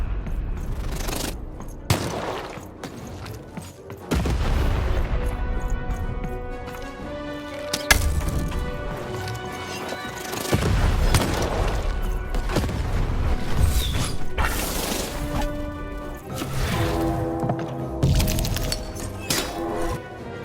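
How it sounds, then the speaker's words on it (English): Repeated booming cannon blasts and cracking shots in the video game Lost in Random fire in irregular bursts over busy game sound effects, loud and close. "Shoot the button to fire the cannon."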